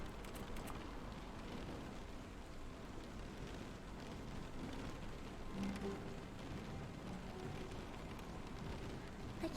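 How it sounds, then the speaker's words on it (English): Rain in The Stanley Parable video game falls as a steady, soft, dense hiss that fills the whole stretch at low volume, with no speech over it. "I hear rain."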